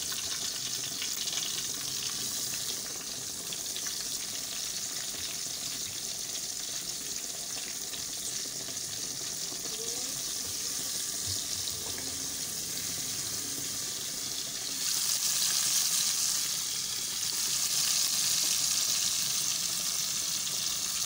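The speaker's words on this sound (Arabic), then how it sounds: "دلوقتي بنقلي السمك." Fish seasoned and frying in hot oil with a few lemon peels, a steady close hiss and crackle of sizzling that swells slightly toward the end, with no talking.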